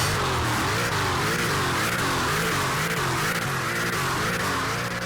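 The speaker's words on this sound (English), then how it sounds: "This thing sounds very interesting for a bi-turbo V8" A Brabus C63S bi-turbo V8 in a Roblox driving game sends out a steady, loud, continuous engine drone with a slightly odd, rippling tone, unbroken for several seconds and without talking.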